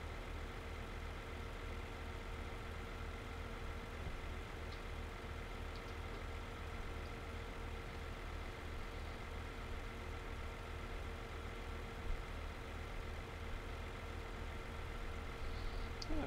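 A tractor engine in a farming simulator game runs steadily with a low, even drone and mechanical hum, holding constant and moderately loud throughout with no voices over it.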